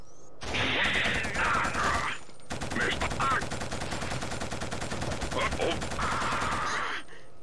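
Rapid bursts of video game gunfire from Killzone crackle in clustered volleys with brief pauses between them, mixed with clicks and mechanical sounds, while voices talk over the action.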